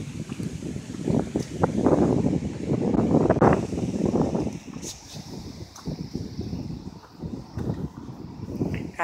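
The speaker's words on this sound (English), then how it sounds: "It's windy today." Strong outdoor wind buffeting a microphone on a cold October day, a loud continuous rushing roar with gusty swells and dips that runs the whole time without speech.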